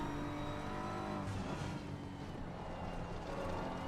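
A BMW race car engine roars around Brands Hatch in a racing video game, a sustained tonal whine with shifting harmonics as revs rise and fall, steady but fairly quiet throughout.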